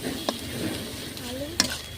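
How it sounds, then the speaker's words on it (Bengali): Spices are stirred together with egg and onion in a frying pan for chowmein, a close continuous sizzle with a couple of quick scraping strokes, no voices. "ভালো করে মশলাগুলো ডিমের সাথে পেঁয়াজের সাথে মিশিয়ে নেব।"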